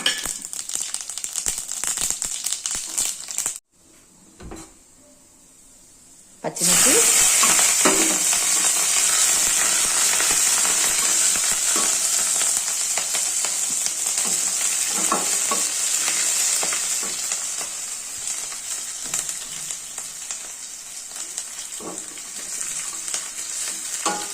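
Mustard seeds, cumin and lentils sizzle loudly in hot oil as a seasoning for a tomato flattened-rice dish, a steady bright crackle with scattered popping ticks, cut by a brief near-silent pause before the frying resumes, no voices.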